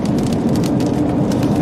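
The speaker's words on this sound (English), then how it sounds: "just hear some hail." Hail falls during a storm, a dense, steady clatter of small ice pellets hitting surfaces, loud and close throughout without pause or voices.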